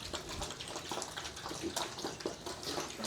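Water poured over piglets in a pen to cool and wet their bodies, a steady splashing gush running unbroken, close by, with scattered wetter splashes and no talk.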